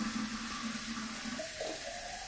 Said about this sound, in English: You're going to fill your Forever bottle with warm to hot water.